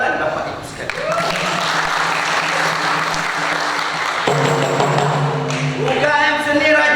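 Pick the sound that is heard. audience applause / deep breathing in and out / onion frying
audience applause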